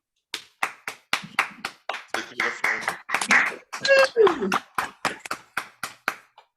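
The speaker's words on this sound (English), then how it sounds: "Feel free to unmute to applaud, everybody." Spaced, distinct handclaps from a few people in an online poetry reading audience, a steady rhythm of sharp individual claps over several seconds with a voice speaking in the middle.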